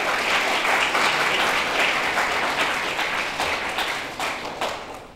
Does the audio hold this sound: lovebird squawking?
no